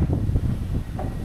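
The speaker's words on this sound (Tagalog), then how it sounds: "Bugso-bugso ang hangin, nakakatakot." Strong gusty wind buffeting the microphone in open ground at the foothills of Mt. Banahaw, a low rumbling roar that swells and dips in short bursts.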